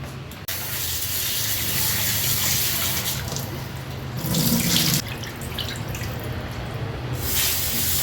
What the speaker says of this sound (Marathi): दोन पाण्याने स्वच्छ धुवून घ्यायचं आहे चिकन